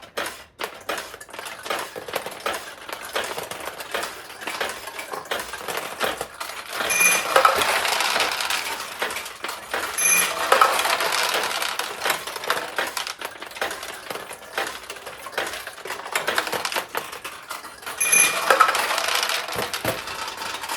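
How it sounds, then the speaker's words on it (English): A restored 1973 Nishijin Model A vintage pachinko machine runs steadily, its steel balls dropping and clattering through the pins in a dense metallic patter, with brighter bursts of chiming around the middle and near the end. "ideally, you want the ball to drop down through the center so that it will open up the side tulips."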